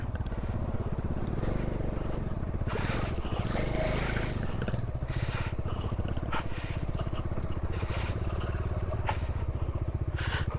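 A new motorcycle, with about ten thousand on the clock, rides along a road through nature toward Bamikonda. Its engine drones steadily and loudly throughout, with wind buffeting and rattling in bursts. No talk.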